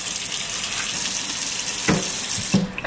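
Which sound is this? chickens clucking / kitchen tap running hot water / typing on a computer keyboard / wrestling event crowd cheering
kitchen tap running hot water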